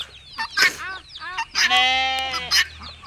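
A goat gives a drawn-out, wavering bleat, close and fairly loud, preceded by a few shorter vocal calls.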